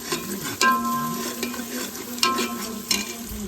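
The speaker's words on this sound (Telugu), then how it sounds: "మటన్ వేసాను మటన్ మొత్తం కలిపి మంచిగా ఫ్రై అయిపోయిన తర్వాత ఉప్పు కారం అన్నీ వేస్తాను" Mutton fries in onion paste in a home kitchen pot, a steady sizzle broken by several loud scraping stirs of a spoon against the pan.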